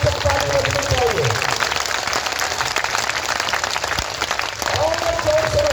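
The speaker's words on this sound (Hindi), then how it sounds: "एक बार जोरदार ताली बजनी चाहिए हमारे अनुज के लिए, छोटे अनुज के लिए।" A large crowd at a Bageshwar Dham padyatra bursts into loud, sustained clapping and cheering that fills the whole stretch, with a voice talking over it on a public address system.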